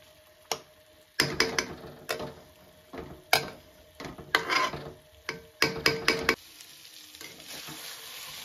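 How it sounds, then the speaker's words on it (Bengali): Pointed gourd (potol) sautéing in a pan, with irregular scraping stirs and clinks of a utensil over a soft sizzle, close and moderately loud, with no talking. "হালকা ছাড়িয়ে আমি একটু সময় 5 মিনিটের মতো এটারে সাঁতলাইম"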